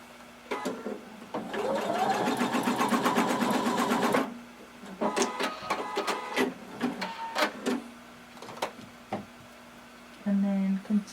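Close sewing machine stitching down elastic on a swimsuit in one steady burst of rapid whirring, followed by clicks, handling sounds and a short final run, with talk around it.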